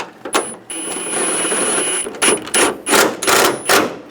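Bolts on a fender bracket of a 2011-2018 Ram 1500 are snugged down with a ratchet, giving a run of sharp clicking bursts, first one long stretch and then several short repeated pulses, close and loud.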